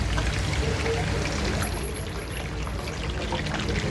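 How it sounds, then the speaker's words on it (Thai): Unbattered, freshly washed catfish goes into oil preheated on a medium flame, giving a steady, close sizzle and bubbling hiss that runs the whole time with no voices. "ล้างเสร็จแล้วแม่ก็ลงทอดเลยจ้า"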